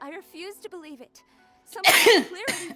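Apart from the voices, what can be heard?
sneeze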